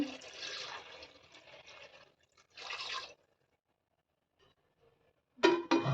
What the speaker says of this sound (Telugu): మీకు ఎంత పులుసు కావాలనుకుంటున్నారో దానికి సరిపోయిన వాటర్ పోసుకోండి